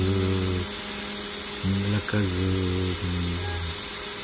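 Small drill drilling holes in a printed circuit board, a tonal whirring motor hum that starts and stops in several short bursts with a brief higher blip between, close and moderately loud.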